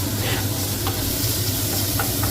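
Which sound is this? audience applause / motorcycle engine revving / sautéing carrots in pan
sautéing carrots in pan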